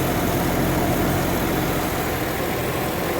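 A 2010 Jeep Wrangler JK's 3.8 liter engine idles steadily and close by, with a constant low rumble and no voices over it.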